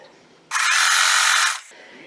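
A sewing machine stitches quilt pieces in one steady, loud whirring run of about a second, close up, with quieter room sound before and after.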